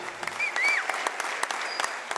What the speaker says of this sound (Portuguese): Depois de quase 2 minutos de aplausos, não teve jeito.